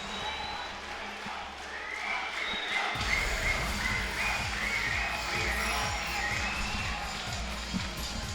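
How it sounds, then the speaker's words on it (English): A tournament crowd at Game Over 2018 chants a player's name in rhythmic waves during a Street Fighter V top-eight match, loud and sustained, with commentators talking over it. "You can hear that crowd feverishly chanting Louisman."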